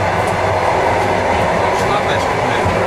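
Riding inside a moving passenger train, with a constant loud rumble of wheels on rails and faint rhythmic clicks running throughout, close and steady.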